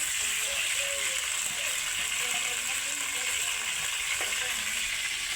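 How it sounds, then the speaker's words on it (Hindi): Onions frying in hot oil in a pan over a village wood fire, a constant even hiss and crackle that holds steady throughout, with no one speaking. "तेल हो रहा है गरम, अब डलेगी इसमें प्याज।"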